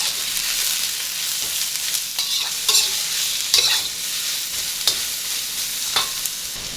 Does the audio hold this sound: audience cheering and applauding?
no